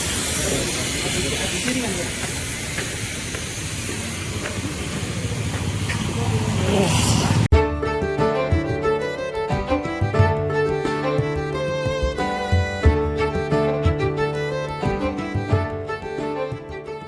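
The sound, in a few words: old Darjeeling toy train engine hissing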